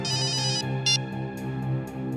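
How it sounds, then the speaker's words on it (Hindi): A mobile phone rings out with a bright, repeating melodic ringtone of quick electronic notes, close and steady for the whole stretch without talk. "सर, मेरी वाइफ का फोन है सर।"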